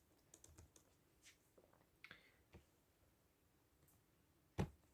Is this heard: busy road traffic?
no